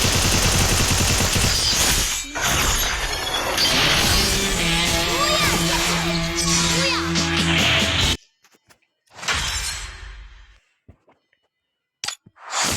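A UMP submachine gun fires in a video game, loud and dense rapid bursts with overlapping effects for about eight seconds, then a few shorter, sparser shots after a sudden drop to near silence.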